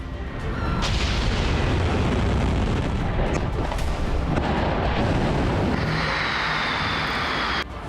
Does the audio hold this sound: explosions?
yes